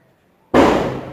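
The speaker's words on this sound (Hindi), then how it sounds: "थोड़ा सा पटाखा की आवाज़ आपको सुनाई दे रही है अभी" After near silence, a single sharp festival firecracker bang bursts out loudly outdoors, then fades into a rumbling echo.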